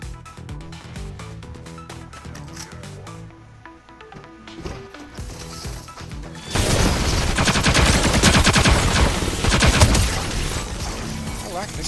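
Gunfire in the video game Fortnite rings out in rapid bursts of shots, sparser at first, then a dense, loud barrage for the second half over game sounds.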